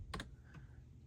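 A short burst of keyboard typing: two quick close clicks followed by a fainter single keystroke, quiet against a low background hum, with no talking.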